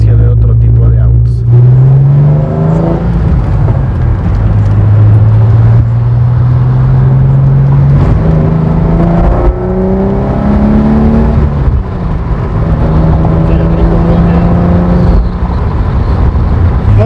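BMW E46 330 M sedan engine under way, a steady loud drone whose pitch climbs and falls through gear changes, with a continuous low rumble throughout.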